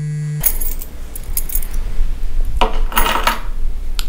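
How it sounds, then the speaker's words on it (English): A ring of spare keys jangles loudly and close, with metallic clinks rattling for a few seconds and a bright burst near the end. "Those are my spare keys, aren't they?"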